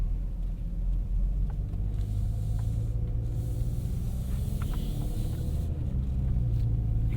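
A 2020 Kia Stinger GT1 AWD engine grumbles while cruising, a low steady rumble heard from inside the cabin with faint road noise and a few light clicks.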